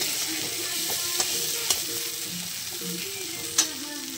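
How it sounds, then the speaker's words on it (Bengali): Spice paste frying in a pan for duck egg pulao, with a continuous sizzle broken by scraping stirs and a few sharp clicks of a spoon against the pan. "মশলা ভাজা হয়ে গেল, কষা হয়ে গেছে"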